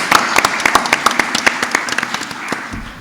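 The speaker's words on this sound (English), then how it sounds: "So a big round of applause once again for our panelists." An audience at a NextGen forum claps for the panelists in a hall. The sharp, dense claps are moderately loud and fade out over a few seconds.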